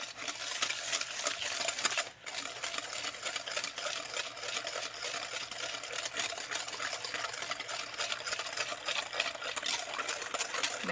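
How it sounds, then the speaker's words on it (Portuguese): Yolk and sugar being stirred for a custard cream, a steady close scraping and swishing of utensil in a bowl that runs continuously with one brief pause. "Aí eu vou mexer aqui a gema com açúcar."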